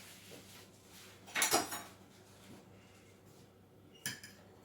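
Vegetables plated onto dishes for a bourride of pollock fillet: soft clinks of utensils against plates, one louder clatter early on and another sharp clink near the end, over a quiet kitchen background.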